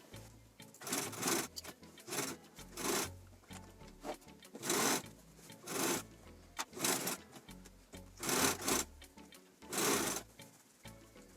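A sewing machine runs a seam around a fabric Santa and reindeer piece in repeated bursts of rapid mechanical stitching, each lasting about a second. The bursts are separated by short pauses, close up and steady, with no voices.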